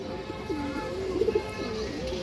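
A pigeon coos softly and close by, a short rolling coo repeated two or three times over a brief stretch with faint background noise.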